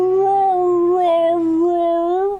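A voice imitates a husky dog howl, one sustained, wavering, loud tone close to the microphone, alone.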